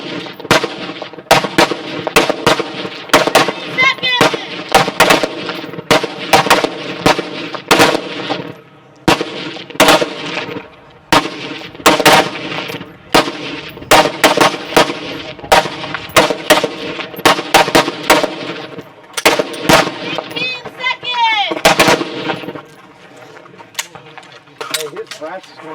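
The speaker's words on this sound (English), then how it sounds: "starting with their rifle. They have 1 minute to complete their firing sequence here." Rapid, sharp rifle shots crack in dense irregular bursts at a shooting competition stage, loud and close, with clusters of overlapping reports from several shooters firing during a timed one-minute sequence.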